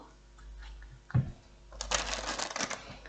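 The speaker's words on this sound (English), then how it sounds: "Give this a little shuffle." A quick papery riffle of tarot cards being shuffled, a soft tap first, then a brief rattling burst against faint background hum.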